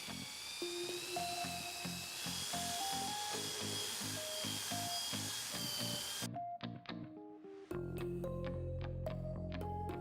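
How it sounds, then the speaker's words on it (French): A drill fitted with a paddle mixer whirs steadily as it stirs tile adhesive in a bucket, a loud continuous electric motor drone that stops briefly partway through and then starts up again. "Mélangez la préparation avec un malaxeur à perceuse jusqu'à ce qu'elle soit homogène et lisse."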